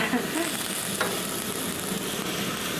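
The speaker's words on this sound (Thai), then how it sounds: "แล้วผัดคลุกเคล้าให้หอมนิดเดียวเอง" Steady sizzling and scraping of sea snails being stir-fried in a full, hot pan, continuous and close, with no voices.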